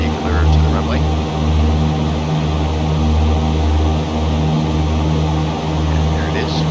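A Cessna 172 propeller engine drones loudly and steadily during a climb after a touch-and-go at a towered airport, with a pulsing low throb and faint intermittent talk over the intercom.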